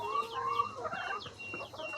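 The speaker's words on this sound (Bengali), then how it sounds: "এ হচ্ছে আমাদের লেয়ার মুরগি খামার" About 45 laying hens cluck and chatter in a steady, busy stream close by on a layer farm, with a few sharper squawks and no voices.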